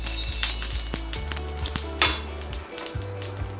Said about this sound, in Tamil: இப்போ தோசைக்கல்லில் வந்து பார்த்திங்கன்னா நம்ம லைட்டாக பட்டர் போட போகிறோம்